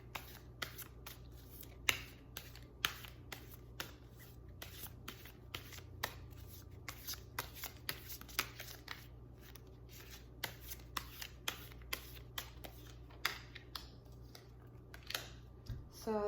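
Tarot cards are shuffled close up in a quiet room, a long run of quick, crisp riffling snaps and flicks in an irregular rhythm with no talking.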